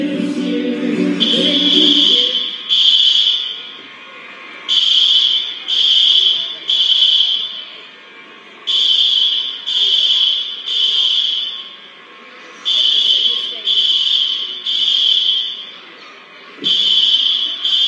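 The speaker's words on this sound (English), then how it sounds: "we're having an alarm of some sort" An alarm sounds inside a shopping mall, a loud electronic tone pulsing in repeated bursts of roughly a second with short gaps, preceded by a brief stretch of crowd and music noise.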